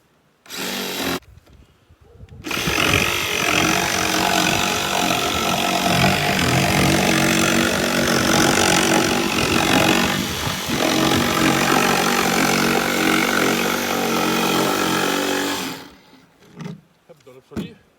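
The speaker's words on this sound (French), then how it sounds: "Une scie sauteuse, sans fil, c'est beaucoup mieux pour faire ce genre de prouesse" A cordless jigsaw cuts through material during a pellet stove installation, a loud, sustained buzzing saw that runs steadily for about thirteen seconds after a short start, then stops, close to the listener.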